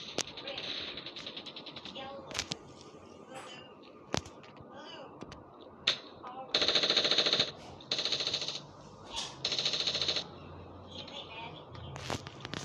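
Video game gunfire comes in several bursts of rapid automatic shots with sharp single cracks between them, loud and close over a quiet game background, while a player talks.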